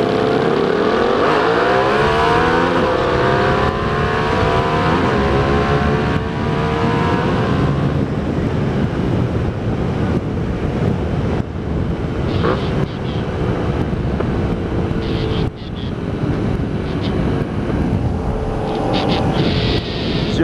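A motorbike rides into a city, its engine note climbing steadily as it accelerates, with heavy wind rush buffeting the microphone throughout and no one talking.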